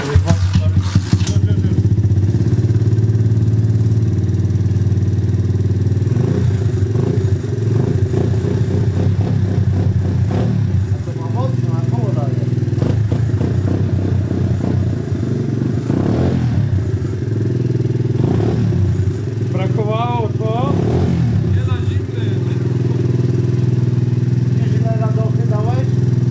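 A Chinese KXD 125 pit bike starts for the first time and settles into a loud, close, steady idle with clattering mechanical noise, while people talk over it.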